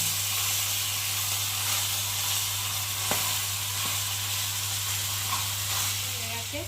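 Pieces of bhola fish fry in hot oil, giving a steady, close sizzle and crackle that runs throughout with no talking over it.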